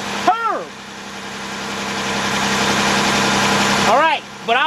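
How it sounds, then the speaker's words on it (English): A 2004 Chevy Monte Carlo with a 3.4 engine, after intake manifold and head gasket repair, idles steadily with a low hum that swells slightly, bracketed by brief chirping sounds at the start and end. "I'm going to let this thing run and run and run."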